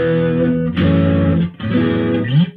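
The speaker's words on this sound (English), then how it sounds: "kick in the Tube Screamer, and you've got a cool sounding overdrive bordering on distortion tone" Electric guitar played through an amp with a Tube Screamer overdrive pedal, giving a thick overdriven tone bordering on distortion; two sustained strummed chords ring out loud and alone, with a slide-like bend at the end.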